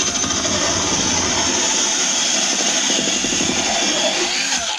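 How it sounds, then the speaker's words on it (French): A 67 mm hole saw on a power drill cuts through plasterboard for an electrical box, a loud continuous grinding whine that holds steady for nearly five seconds before cutting off abruptly. "Donc je vais prendre tout de suite la scie cloche qui va bien."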